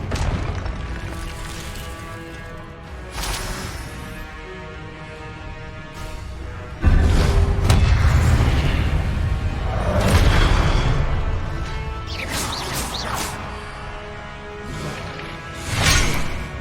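In Hogwarts Legacy, Confringo fire spells go off as heavy booming blasts and crashes over a dense, layered game soundscape, with whooshes and impacts building around the middle and end.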